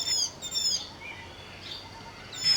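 Small white-eye birds calling near their hammock-shaped nest in an orchard, with a few thin, high chirps and trills at the start and end, faint and somewhat distant over a quiet background.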